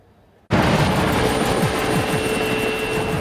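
An attack helicopter cuts in suddenly after a brief quiet moment, its engine and rotor making a loud, constant whirring roar overhead.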